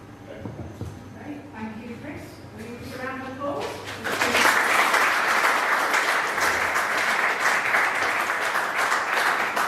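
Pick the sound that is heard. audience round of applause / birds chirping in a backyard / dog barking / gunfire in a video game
audience round of applause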